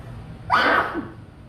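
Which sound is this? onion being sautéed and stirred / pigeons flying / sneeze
sneeze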